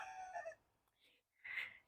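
A young rooster crows from inside a nest box in a backyard chicken run. The call is brief, quiet and hoarse, broken into a few short bursts with pauses between them.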